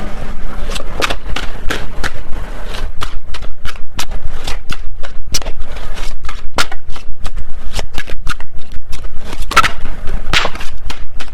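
Tarot cards are shuffled close up in a steady, rapid riffling rhythm that runs the whole time without pause.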